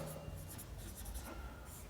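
A pen scratches out a physics lens formula on a writing surface in short, faint strokes, quiet and close, with no voice over it.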